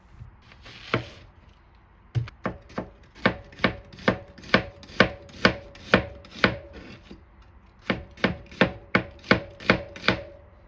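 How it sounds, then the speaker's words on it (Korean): A knife slices an onion into thin strips on a cutting board for a braised tofu dish, a steady run of sharp, close chopping taps that pause briefly before resuming in a quick even rhythm, with no talk. "빼는 동안 양파 하나를 채를 썰어 준비해 둡니다"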